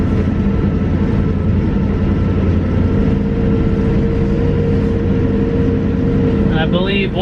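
A 1966 International Loadstar 1600 truck drives with a loud, steady low engine drone while gears are shifted, its rumble continuous and close with a brief higher whine near the end.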